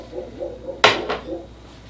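A can of crushed or diced tomatoes tipped into a Ninja Foodi pot while making soup, heard as one sharp metallic clank of the can against the pot followed by a brief wet slide and plop, close and fairly loud.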